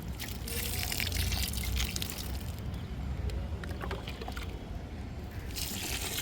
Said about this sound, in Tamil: இப்போ இந்த மாதிரி மண் நனைகிற அளவுக்கு நம்ம ஊற்றிருக்கோம்